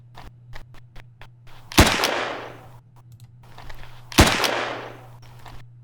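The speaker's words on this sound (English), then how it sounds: "It's like a nice pistol sort of sound." Two sharp pistol gunshot sound effects ring out about two and a half seconds apart, each a loud crack with a decaying tail, between faint clicks over a low steady hum.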